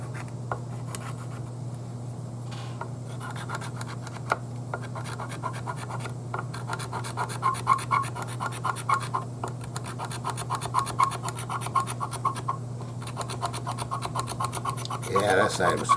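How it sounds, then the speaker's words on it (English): Sandpaper rubbing by hand on the body of a '58 double-cut Junior replica guitar, a steady close scratchy rasp with irregular strokes over a constant low hum, growing busier toward the end, with some talk in places. "we'll hit that with a little bit of sandpaper"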